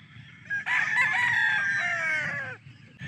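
Claret gamecock rooster, a straight-combed, yellow-legged bird, crowing once in a long, loud, close cock-a-doodle-doo lasting about two seconds, a brief cluck just before it, quiet background.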